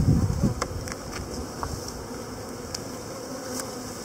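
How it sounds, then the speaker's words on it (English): Honey bees buzz around an open five-frame nucleus hive during installation, a dense steady drone close by with individual bees zipping past, plus a few soft knocks of handled frames. "It's a larger bee, but I think it's a drone."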